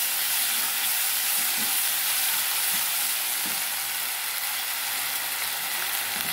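Ginger garlic paste and turmeric fry in hot oil, a loud, steady close-up sizzle with faint stirring scrapes and no voices.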